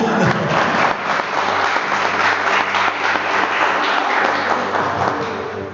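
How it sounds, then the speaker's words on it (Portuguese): A church congregation breaks into sustained, dense applause, many hands clapping together in a loud, steady wash that holds at full strength for several seconds. "merece uma salva de palmas"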